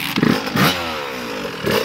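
A dirt bike engine revs hard for a wheelie, short loud bursts of throttle rising in pitch, then a sustained high-RPM whine falling away before another burst.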